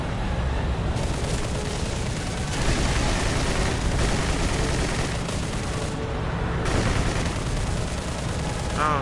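Bomber's defensive gunners fire continuously in a flight combat game, a dense, loud stream of gunfire layered over steady engine roar with no pauses throughout.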